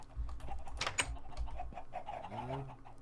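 Chickens clucking on a crowded Minecraft chicken farm: soft, scattered clucks and bird calls mixed with a low rumbling background, faint and continuous, with no one speaking.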